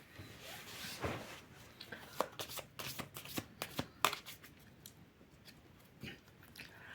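A deck of tarot cards is shuffled and cut by hand close to the microphone, giving quiet riffling bursts and sharp flicks and snaps in an uneven rhythm, with no talking.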